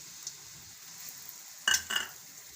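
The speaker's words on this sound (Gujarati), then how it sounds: "તો ઘીને આપણે ગરમ થવા દઈશું। તો હવે આપણે ગોળ નાખી દેવું।" Jaggery goes into hot ghee in a pan with a faint, quiet sizzle, then two sharp metallic clinks and scrapes of a spoon stirring against the pan close by.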